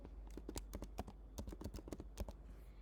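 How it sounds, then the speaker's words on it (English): Keys tapped on a computer keyboard in a quick, uneven burst of about a dozen crisp clicks, close and fairly quiet, with no talking. "I'm gonna press T on my keyboard to grab the type tool"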